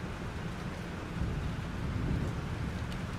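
A thunderstorm in Life Is Strange rumbles low and heavy under steady rain, the thunder swelling louder in the middle before settling back to a constant roar.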